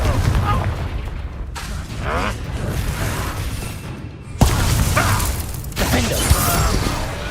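Confringo blasting curse explosions in the Hogwarts Legacy game, a sudden loud blast near the middle amid dense battle noise and clashing effects, with speech-like voices under the mix.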